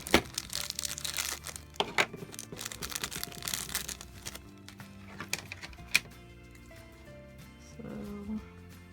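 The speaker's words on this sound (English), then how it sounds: "I got my scissors here to cut" Crisp snipping and crinkling of scissors cutting plastic packaging off toy figure stands, a few sharp clicks scattered among softer rustling.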